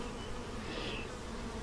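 Forager honeybees buzz steadily at the entrance of a deep eight-frame hive, a dense continuous drone from many insects close by with no voices.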